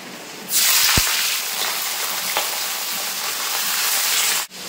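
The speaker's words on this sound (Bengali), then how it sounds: "এবার আমি তেলের ভিতরে যে মাংসটা ধরে রেখেছিলাম মাংসটা কিন্তু দিয়ে দেবো।" Chicken pieces drop into hot oil with bay leaf and whole garam masala, setting off a sudden loud sizzle that holds steady, with a couple of brief clinks from the pan, before cutting off abruptly.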